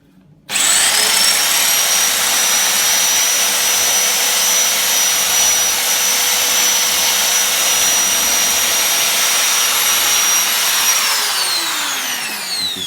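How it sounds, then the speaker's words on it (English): A power drill bores out a rivet on the rear strut of a Bugaboo Donkey stroller laid on its side, a loud, steady high whine held for about twelve seconds after a short start, then easing off at the end. "we're going to drill out this rivet"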